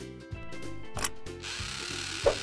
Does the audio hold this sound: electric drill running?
yes